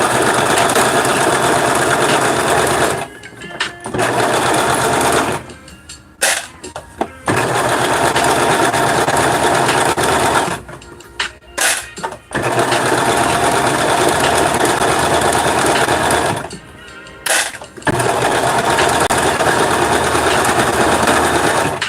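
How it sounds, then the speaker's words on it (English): A sewing machine runs loud and close while stitching upholstery lining for a Ke Ke Hobo bag, long continuous whirring bursts broken by brief pauses. "I sewed together the lining"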